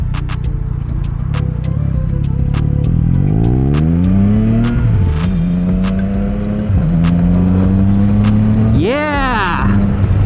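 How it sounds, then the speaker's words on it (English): Several motorcycles pass along a road to Sussex, near Newlands Corner, with loud engines revving and their pitch rising and falling. One bike roars close near the end, heard over steady wind and engine noise with some talking. "How cool to see so many bikers out."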